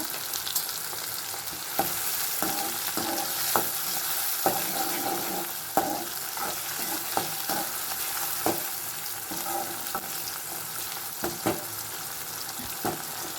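A tomato sautés with a little salt in a pan for a broad bean gravy, with continuous frying sizzle and regular knocks and scrapes of a spatula stirring, close and fairly loud with no voices.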